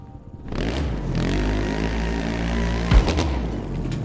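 Motorcycle engine in the racing video game The Crew 2, starting up after a brief quiet moment and holding a steady loud rumbling drone, with a sharp rev spike near the end.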